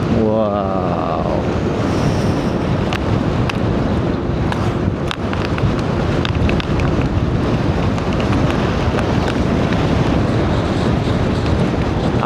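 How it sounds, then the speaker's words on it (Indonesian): Strong wind buffets a microphone on a road trip through Subang and Sumedang, a loud continuous rushing roar with gusty low-end rumble and scattered knocks across twelve seconds; a voice briefly sounds near the start. "Anginnya gede banget."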